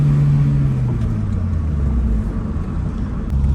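A K24-swapped Acura RSX engine drones loudly and steadily at high revs, a low humming tone that dips slightly and then climbs again, heard from inside the car at night.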